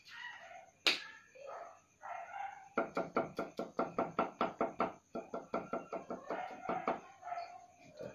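Knife chopping candlenuts for Balinese pepes ikan nila, a fast run of sharp even taps on a board, with a rooster crowing nearby and a faint steady background hum.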